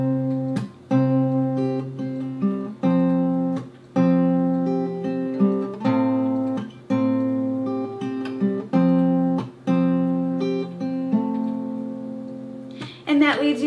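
Fingerpicked acoustic guitar plays a song's pattern near full speed, a steady flowing run of plucked notes over changing chords, heard clearly and alone, ending with a brief scrape.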